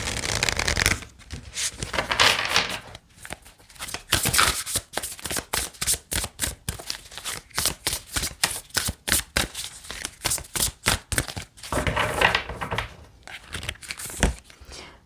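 Tarot cards being shuffled by hand, crisp riffling and flicking strokes in quick rhythmic bursts, close and clear, with brief pauses between shuffles and no talk.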